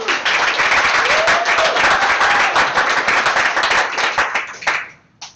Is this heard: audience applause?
yes